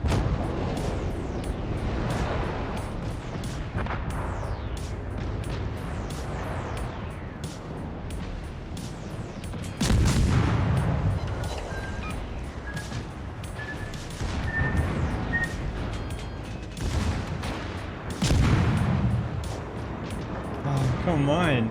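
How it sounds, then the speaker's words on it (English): Cruiser guns fire in a naval battle video game: repeated heavy booming salvos with rumbling decay every several seconds, under frequent talking. "12-second reload on freaking cruiser guns are such bullshit."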